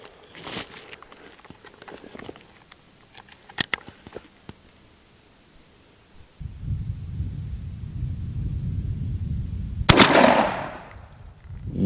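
A Stevens 301 .410 shotgun firing a 3-inch Apex Turkey Ninja TSS load with 9.5 shot at a 20-yard pattern test, heard as a few sharp reports early on, then a low rumbling background and a loud burst near the end.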